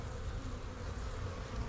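Honey bees buzz across the frames of an open hive during a late-March beekeeping inspection, a steady, dense drone that holds close and even throughout.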